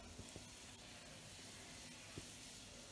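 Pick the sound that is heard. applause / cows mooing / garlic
garlic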